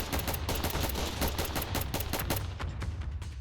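Rapid automatic gunfire in a Roblox shooting game, a dense, continuous string of loud close shots hammering on without pause.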